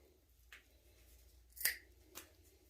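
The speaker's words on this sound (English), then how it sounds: "snip right through it" Scissors snip through stitches while a gray fox is being mounted, giving a few faint, quiet clicks with one sharper cut in the middle.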